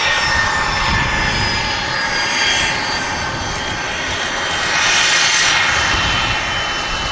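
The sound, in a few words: Icelandair Boeing 737 MAX jet engines at Manchester Airport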